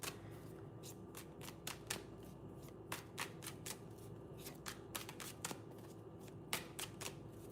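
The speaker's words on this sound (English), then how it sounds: "Let me just shuffle a little bit better, Sarah, before I do this." Playing cards are shuffled in quick, crisp riffles and flicks, close but quiet, repeating irregularly over a soft background hiss.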